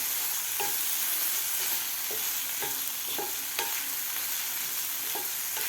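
Chopped tomato sautéing in a pan with a steady sizzle, broken by a few distinct scraping stirs of a spoon at irregular intervals, close and moderately loud, with no voices.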